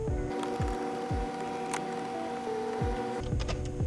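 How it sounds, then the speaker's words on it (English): A Phillips head screwdriver backs out two screws on a car interior panel, giving faint, repeated ratcheting clicks and scrapes in a quiet space. "I'm going to take a Phillips head screwdriver. You got two screws here,"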